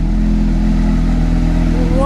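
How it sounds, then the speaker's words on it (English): A Porsche GT3 with a titanium exhaust holds a loud, steady, deep engine drone close by, climbing slightly in pitch at the very end. "That exhaust is seriously mental."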